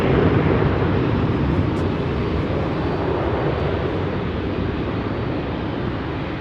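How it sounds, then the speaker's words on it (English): A Lufthansa Airbus A320neo with Pratt & Whitney engines departs London Heathrow at sunset, giving a steady broadband jet roar that holds at a moderate distance and eases slightly toward the end. "It is Lufthansa A320 Neo indeed, with the Pratt & Whitney PW 1700G, is it?"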